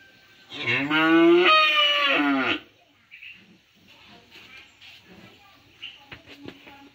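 A single loud, close moo of about two seconds comes from cattle at a cattle sale in Trà Ôn, Vietnam, followed by faint rustling and light knocks.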